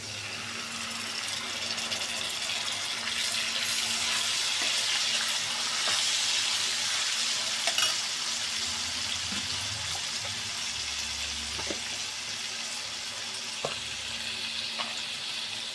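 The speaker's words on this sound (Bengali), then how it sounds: "পেঁয়াজ কুচি, পেঁয়াজটা একটু বাদামি কালার করে আমি ভেজে নেব।" Chopped onion and ginger-garlic paste sizzle steadily in hot oil for a chicken korma, a continuous close frying hiss with a few faint clinks and watery splashes, no voices.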